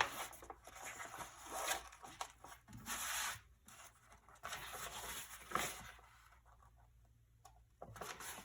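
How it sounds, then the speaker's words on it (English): A big needle with heavy thread is pulled through the pre-poked holes of notebook pages, giving soft, close rubbing and drawn-out scraping swishes in uneven strokes, faint and with no talking. "we're going to thread it back and forth just like we did before"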